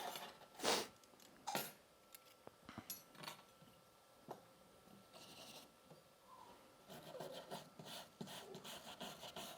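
A rag spreads rust-removal paste across a piece of metal, making soft, intermittent rubbing and wiping strokes with scattered light scuffs, close and fairly quiet.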